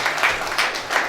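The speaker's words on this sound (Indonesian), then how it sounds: "Yang paham tepuk tangan bagi Allah kita." Congregation applauding in a church during a sermon, a burst of clapping from a crowd that swells in several waves over a short moment, fairly loud with no talk over it.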